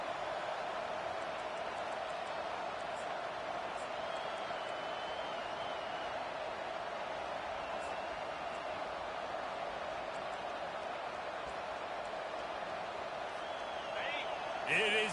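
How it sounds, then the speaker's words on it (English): Steady, dense stadium crowd roar from a college football video game, Ohio State vs Wisconsin, rising as fans get loud on a third down; a continuous broad wash holds throughout with commentary voices over it. "It is getting loud as this crowd tries to help its defense."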